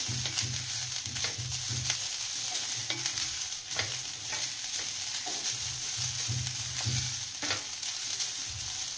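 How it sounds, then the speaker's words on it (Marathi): Grated fresh coconut sautéed in ghee over a medium flame, a steady sizzle broken by rhythmic scraping of a spatula against the pan, close and clear with no talking. "ओल्या नारळाचा किस घालायचा आहे. आणि तो चांगला परतून घ्यायचा आहे."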